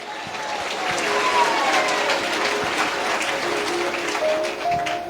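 A church congregation gives loud, sustained applause that fills the room evenly for several seconds, with faint voices and shouts mixed in.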